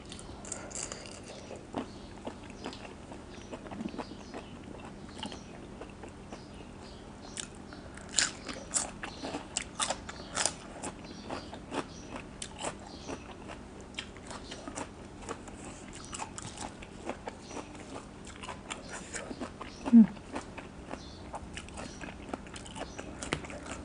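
Crunchy bites and chewing of fresh raw shrimp soaked in fish sauce, eaten with garlic and seafood dipping sauce and fresh bitter melon, a steady close run of small crisp crunches with one sharper bite near the end.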